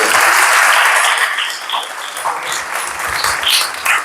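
Congregation at a Sunday church service applauding, a dense, steady wash of many hands clapping close and loud through the whole stretch, easing slightly midway, with a few faint voices mixed in.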